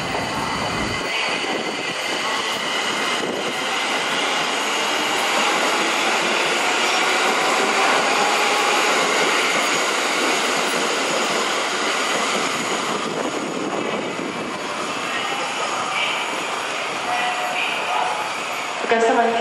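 Tokyo Metro Ginza Line train pulling out of Shibuya Station during track-switching works, a loud, steady broadband rumble that swells and holds for about twenty seconds, with people talking faintly in the background.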